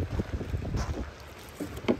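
Surf rolls and breaks on a shore during an outdoor dinner, a steady broadband wash with wind buffeting the microphone and a couple of louder swells rising near the end, no talking.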